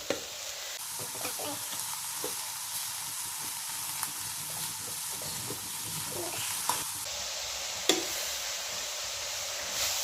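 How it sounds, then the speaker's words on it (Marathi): Vegetables and peas sizzle steadily in a hot pan, a continuous frying hiss broken by soft scraping stirs and a few sharper clinks of the spoon against the pan. "आता हे मटारचे दाणे घालूया आता ह्या सगळ्या भाज्या आपण मिक्स करून घेऊया"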